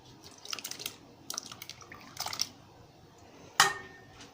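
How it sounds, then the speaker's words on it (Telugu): Tomato pieces drop into a pot of lentils and water in a home kitchen, making a few quiet, separate plops and splashes with brief pauses between them, ending in one sharper splash. "ఈ టమాటాలు వేస్తున్నాను చూడండి"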